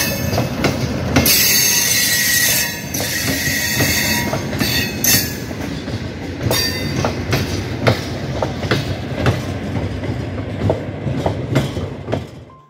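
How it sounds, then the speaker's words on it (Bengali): A train runs through jungle near Sivok station in the hills, its wheels clattering steadily with squeals and sharp metallic knocks, loud and close throughout with no voices. "দেখুন ট্রেনটা জঙ্গল দিয়ে যাচ্ছে"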